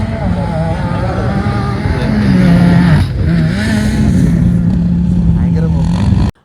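Many vehicles drive and rev together in the sand-hill outing area of Qatar. Their engines form a loud, continuous droning roar with rising and falling revs, then cut off abruptly.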